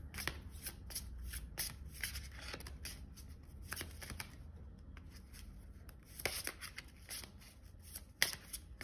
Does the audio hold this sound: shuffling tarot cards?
yes